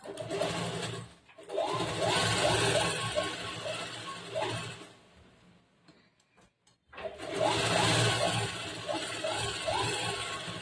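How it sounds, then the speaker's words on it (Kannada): A sewing machine stitches blouse fabric with a canvas lining, running in two long steady bursts with a short pause between, close and fairly loud with no talking. "ಇಲ್ಲೇ ಈ ಕಡೆ ಸೈಡಿಗೆ ಒಂದು ಹೊಲಿಗೆ ಹಾಕಿ"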